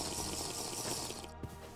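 Poisoned water in the RLCraft modpack for Minecraft gives a steady, close rushing and trickling wash that runs on throughout, with a slight dip near the end.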